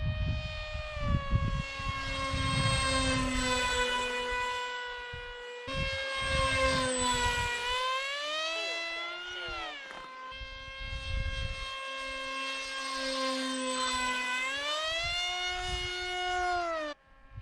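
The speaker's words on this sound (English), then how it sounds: "Doing a couple low flybys, low touch and goes kind of." A Hobbyking Teksumo EPP RC flying wing makes low passes, its small electric motor whining at a steady pitch that bends up and down as it sweeps past, fairly close and loud over faint outdoor wind.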